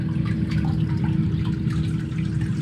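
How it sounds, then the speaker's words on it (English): Steady low bubbling and gurgling water through an aquarium sand filter, with a constant churning wash, continuous and fairly close, no voices. "The sand is basically working as a sand filter and is bubbling"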